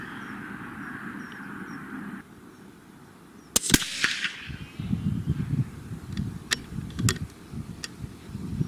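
A rifle shot firing a Nosler 130g RDF bullet over a chronograph rings out as one sharp crack, followed by a few fainter ticks and rustling movement nearby.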